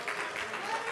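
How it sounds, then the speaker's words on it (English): A church congregation clapping hands during a praise service, a brief stretch of dense, even applause heard throughout without a clear break. "Oh, clap your hands and give the Lord a praise."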